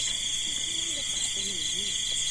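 Frogs call at night after rain, giving a few low, wavering croaks in short bursts beneath a constant high, shrill insect drone that fills the background.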